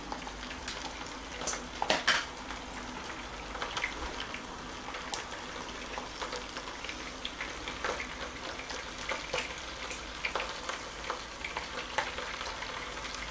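Yellow Thai curry paste sizzles and crackles steadily in hot oil with sugar, with occasional louder pops and a stir or two, close by and with no talking.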